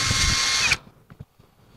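WOSAI WS-MD13 20V brushless cordless drill boring through thick metal, a loud steady high-pitched whine that cuts off abruptly as the bit breaks through, followed by a few faint clicks and handling knocks.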